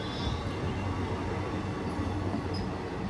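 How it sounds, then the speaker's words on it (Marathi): An Indian Railways Yesvantpur–Prayagraj special train made up of ICF coaches passes close by, giving a loud, steady rumble and rattle of wheels that fills the whole stretch without a break. "स्पेशल ट्रेन असल्यामुळे ICF कोच आहेत."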